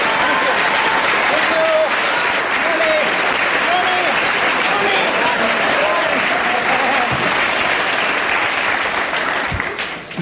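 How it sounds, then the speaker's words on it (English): A studio audience at a radio comedy panel show bursts into sustained, dense applause, many hands clapping together loudly and evenly for several seconds before starting to taper off. "I'm going to ask the audience to show approval by their applause"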